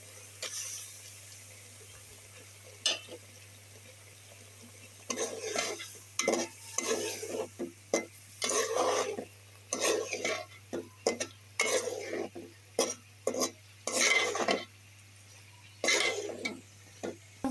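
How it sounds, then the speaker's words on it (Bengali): Fish pieces and cut potatoes cooking down in onion spice paste in a pan, with a spatula scraping and stirring in bursts of clattering strokes over a soft sizzle and steady low hum; no talking. "আলুটুকু কষে নিয়েছি মশলা সহ পেঁয়াজ আলু কষে নিয়েছি"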